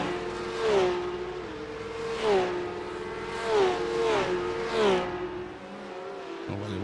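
A close pack of six Porsche Cup race cars in a Boost Cup race streams past on track, one engine wail after another rising and falling as each car sweeps by in quick succession, fading at the end.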